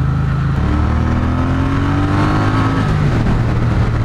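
Loud, close drone of a 1200cc Triumph Bonneville T120 motorcycle engine at speed, pitch climbing smoothly as it accelerates, then dropping with a gear change, under steady wind roar.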